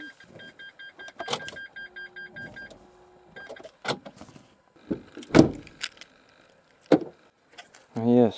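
A Renault Espace car is locked, giving a series of electronic beeps, clicks and mechanical clunks from the locks and door, with a sharp thump near the end. A person talks between the sounds.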